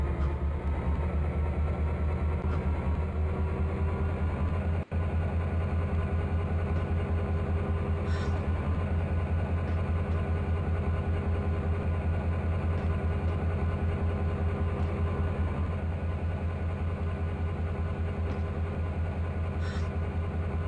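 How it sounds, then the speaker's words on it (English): A train locomotive engine in the video game Trainz drones steadily at low pitch, a constant, even hum of moderate loudness with faint clicks over it and one brief dropout. "Now listen to this engine roar."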